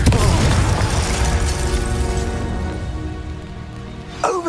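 A Confringo fire spell blasts in Hogwarts Legacy: a loud, booming burst that opens with heavy low-end impact and a crackling, rain-like fiery spray, then decays over several seconds before a small sweeping effect at the end.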